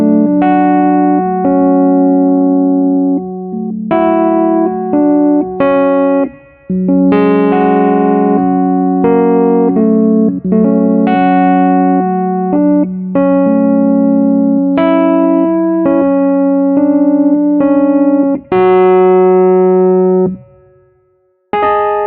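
Rhodes electric piano plugin on the Dark Spring preset, sustained chords and melodic notes played continuously and loudly, with brief pauses between phrases.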